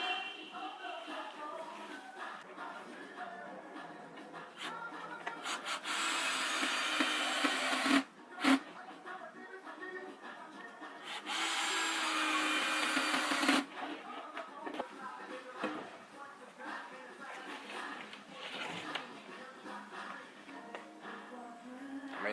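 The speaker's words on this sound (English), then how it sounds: "I'm going to finish up these last two holes, put the screw in there" Screws driven with a power driver into the wooden roof of a mailbox: two sustained whirring, grinding bursts, each lasting a few seconds, with quieter handling and shuffling noises before, between and after them.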